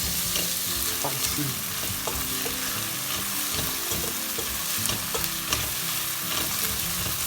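Green chilies sizzle and fry in a pan with crab for Goan crab xec xec, a steady close crackling hiss broken by occasional stirring clatter, with a brief word spoken.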